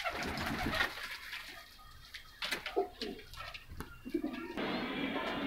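Loft pigeons coo softly close by amid rustling and shuffling noises, with a louder broadband burst at the start and end and no speech.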